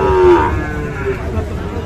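Sahiwal cattle at the Ambari livestock market in Dinajpur, with one near, drawn-out moo standing out over a low crowd murmur.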